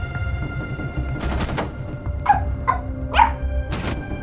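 Over voice chat during a game, a person imitates a dog with a handful of short, sharp barks, spaced irregularly, close to the microphone above a low background rumble.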